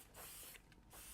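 Leaf shine is misted onto bamboo leaves at a flower-arranging table in a few quick, soft hissing bursts, faint and close, with no voices.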